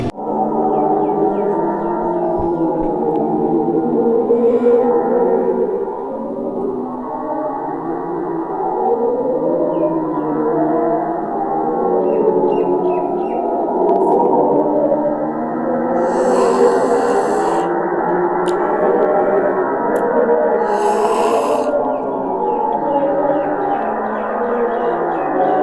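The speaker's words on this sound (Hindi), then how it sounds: "नासा ने जैसे ही इस ब्लैक होल की आवाज को जारी किया" NASA's sonified sound of a black hole: a deep, continuous, droning hum with a wavering, echoing tone. It plays steadily and loudly throughout, with a few brief hissy bursts near the end.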